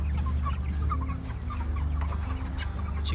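Cornish Cross meat chickens around day 57, growing birds in a chicken tractor, cluck steadily over a constant low hum, with soft overlapping calls close by and no talk.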